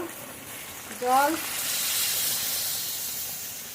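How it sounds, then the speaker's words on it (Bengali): Hot water poured into a pan of frying country duck curry with fried potatoes sets off a sudden burst of loud sizzling and hissing steam, which settles into a steady, close simmering hiss. "আগে থেকে গরম জল করে রেখেছিলাম, গরম জল দেব।"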